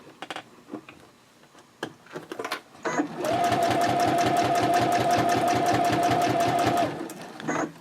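Sewing machine running steadily for about four seconds while backstitching a fabric pouch, a fast even stitching chatter, close and loud, preceded by a few handling clicks and rustles.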